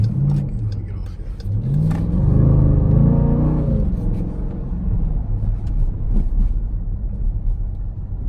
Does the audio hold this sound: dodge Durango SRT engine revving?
yes